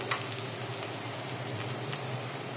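Food frying in hot oil until golden brown gives a steady, dense sizzle with crisp crackles and pops throughout, loud and close, with no voices over it.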